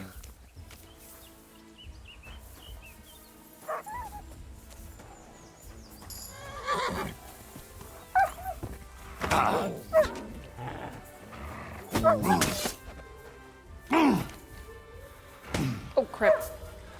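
Scattered barks and yelps from a dog in the video game Kingdom Come: Deliverance 2, mixed with horse whinnies and hoof clops, rising in loudness toward the end, with a voice talking at times.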